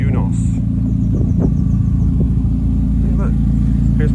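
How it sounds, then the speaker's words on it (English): The noisy engine of a JDM Mazda Eunos Roadster idles with a steady low rumble, loud and close throughout, with a voice talking over it. "My noisy new Eunos."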